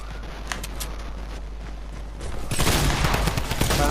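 Gunfire in the Fortnite Battle Royale video game, a steady crackle of shots at moderate distance that swells into a loud, dense burst of rapid fire halfway through, with no talking.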